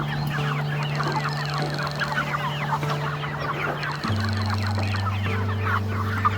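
Backyard meat chickens clucking steadily in a busy flock, with dense overlapping calls and a constant low hum underneath throughout.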